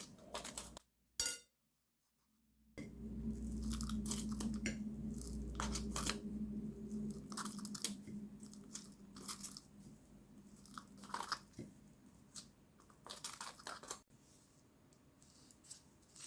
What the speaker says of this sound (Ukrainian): Тепер насипаємо з усіх боків субстрат між горшечками, між стаканами.